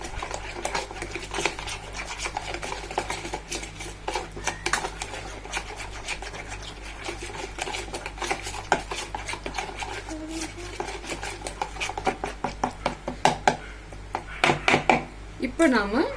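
A spoon or hand scrapes and stirs ingredients together in a bowl, including cleaned quail coated with turmeric, giving a busy run of rapid clicking, scraping strokes under a voice.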